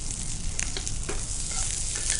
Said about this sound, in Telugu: కొద్దిగా కొత్తిమీర వేసి కలుపుకుందాం